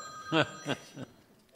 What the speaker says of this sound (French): c'était à ce moment que mon téléphone devait sonner